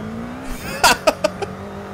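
A bubble car at full throttle in Forza Horizon 5, its small engine revving hard in a quick climbing burst followed by several short sharp bursts as the revs rise and drop.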